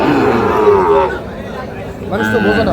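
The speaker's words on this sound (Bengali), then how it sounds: "ওটা গির গরু হ্যাঁ বিরাট বড় হয়" Large Gir cattle low at a busy post-Eid cattle market at Ambari haat, with two drawn-out moos heard close by amid people talking and general crowd murmur.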